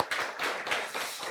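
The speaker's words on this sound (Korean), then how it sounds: "하나님께 감사 박수 함께 할까요?" A church congregation at a Sunday service claps in thanks to God in a short, uneven burst, several rhythmic pulses of many hands close together that fade at the end.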